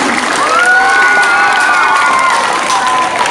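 An audience at a live comedy show claps and cheers in a dense, steady roar that holds at the same level throughout, with a few whistles and shouts rising above the noise.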